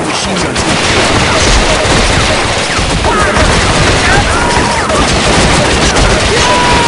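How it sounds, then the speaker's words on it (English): Heavy machine gun fire rattles in dense, continuous bursts in the Vietnam War shooter Shellshock: Nam '67, loud and unbroken through the whole stretch, with booms and voices mixed in. "There's heavy machine guns"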